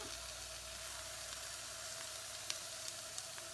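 Faint, steady sizzling and light crackling of eggs frying in a pan under a lid, with a few soft pops near the end.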